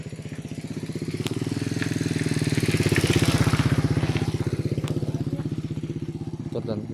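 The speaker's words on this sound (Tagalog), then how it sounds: "Ito may motor tungo dun sa shortcut." A motorcycle engine runs steadily and close by, its rapid pulsing drone swelling to a peak midway and then easing off as it rides past on a road.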